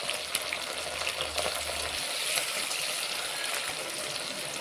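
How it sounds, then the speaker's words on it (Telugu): Chopped onions, tomatoes and curry leaves fry in a pan for a spicy Nellore-style small fish curry, giving a steady, close sizzle that continues without a break. "టమాటా ఉల్లిపాయలు అయితే బాగా ఫ్రై అయిపోయి"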